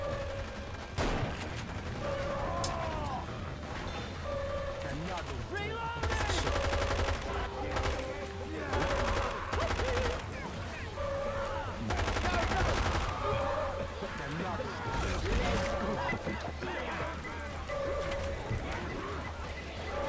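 Assault rifle fire in Left 4 Dead 2, rapid bursts of gunshots repeating across the scene amid chaotic game noise, with players talking throughout.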